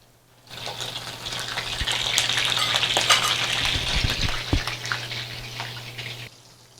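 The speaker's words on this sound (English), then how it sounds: "And we're going to go ahead and drop in our patties." Thai fish cake patties drop into hot oil and fry with a loud, continuous crackling sizzle that swells and holds, with a few soft knocks and a steady low hum beneath, and no voices.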